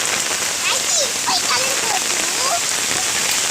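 Rain falls steadily on the ground outdoors in a dense, constant hiss, loud and close, with children's excited voices chattering over it.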